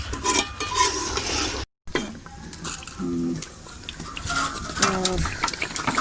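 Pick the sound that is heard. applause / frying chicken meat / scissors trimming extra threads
frying chicken meat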